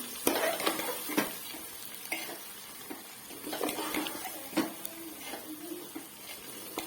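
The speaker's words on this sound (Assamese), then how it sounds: "ভালকৈ লৰাই দিম এইখিনি" A spoon scrapes and stirs raw rice in a cooking pot for simple chicken pulao, with soft scratchy strokes repeating at an uneven pace and a faint sizzle underneath, close by and fairly quiet.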